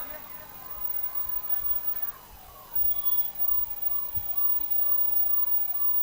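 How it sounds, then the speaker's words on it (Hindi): A police car siren wails in steady repeating rising-and-falling sweeps at a crowded Urs gathering, moderately distant and somewhat faint, under background crowd noise. "पुलिस की गाड़ी आने दें, पुलिस की गाड़ी के पीछे हजरत की गाड़ी है"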